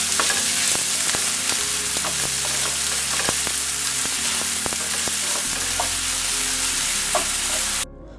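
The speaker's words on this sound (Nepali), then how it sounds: "प्याजलाई गोल्डन ब्राउन हुइन्जेलसम्म भुट्ने।" A finely chopped medium onion fries with cumin seeds in a pan, a loud, dense sizzle running throughout while a spoon stirs and scrapes with regular clinking taps, close and uninterrupted until an abrupt stop.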